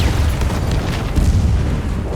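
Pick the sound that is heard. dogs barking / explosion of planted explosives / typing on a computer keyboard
explosion of planted explosives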